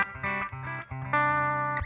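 Clean electric guitar tone through a Maton amp with a little reverb from a tube amp expander, a few ringing chords and single notes played alone, the last one sustained before fading.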